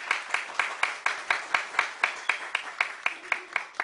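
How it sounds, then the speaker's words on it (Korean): Rhythmic hand clapping at a steady beat, about three claps per second, from an audience at a New Year special concert launching a Korean arts academy, greeting a tenor professor as he is introduced. "예, 박수 주세요"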